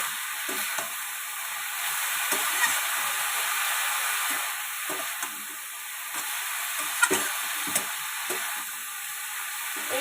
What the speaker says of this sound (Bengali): এবার এটাকে আমি কিছুক্ষণ ধরে নাড়াচাড়া করব, কষিয়ে নেব, মোচাটাকে